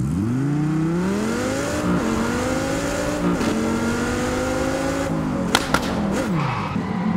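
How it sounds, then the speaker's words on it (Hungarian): A car's engine in Test Drive Unlimited Solar Crown drones and revs up and down, then a few sharp exhaust pops crackle near the end. "nagyon szépet pukkan a kipufogó"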